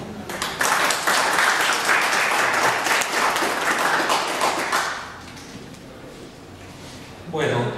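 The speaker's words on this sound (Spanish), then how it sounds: "Pido les demos un aplauso a nuestros participantes." An audience claps together for participants at a university event on football and society. The broad, dense applause swells quickly, holds steady for about four seconds, then fades, with a brief noisy thump near the end.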